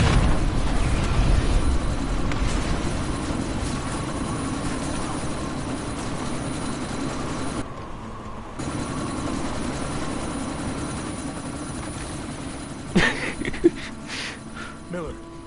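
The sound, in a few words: helicopter in video game Deus Ex: Mankind Divided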